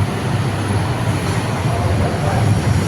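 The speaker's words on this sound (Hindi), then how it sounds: "इसके ऊपर से ट्रेन जा रही है गाइस।" Steady low rumbling of a train passing overhead on a bridge beside a road, a continuous heavy drone with faint rattling, no voices.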